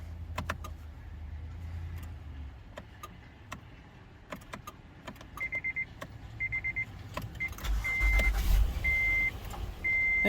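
A 2016 Honda Odyssey starts late on with a short, loud low rumble, while repeated electronic chime beeps and scattered clicks sound around it inside the vehicle.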